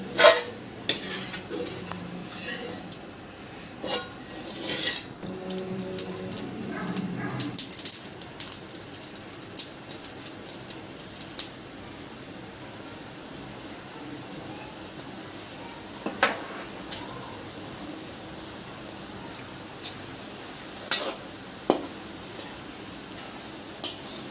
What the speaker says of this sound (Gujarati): આવી રીતે બધા ગોઠિયા આપણે તળી લઈશું.